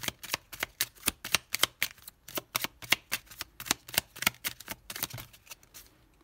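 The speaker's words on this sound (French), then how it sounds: "on va prendre une petite carte de l'oracle de la numérologie" Numerology oracle cards being shuffled by hand make a rapid series of close, crisp papery slaps and riffles in an uneven rhythm, then slow to a few last flicks, with no talking.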